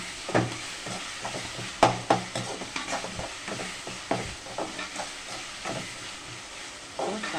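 Tomatoes sautéing in a pan while cooking keerai kootu, with soft sizzling and intermittent stirring clinks and scrapes throughout, no talk.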